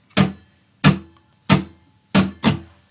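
Guitar strummed in a slow rock pattern: four evenly spaced downstrokes followed quickly by an upstroke, each chord ringing briefly and decaying, close and fairly quiet.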